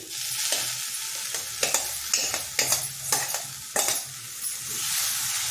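Boiled lentils and sour greens go into a pan of cooking dal and get stirred, a steady frying hiss underneath with a run of close scraping spoon strokes and light clinks against the metal, no talking.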